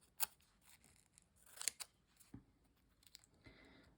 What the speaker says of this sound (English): And I have special scissors for masking tape.